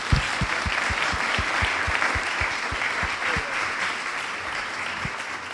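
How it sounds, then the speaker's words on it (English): At an awards presentation for a 2016 university competition, a room audience gives a steady round of applause of dense, even clapping, with a few louder claps close by, sustained throughout before tapering slightly. "let's give them a round of applause."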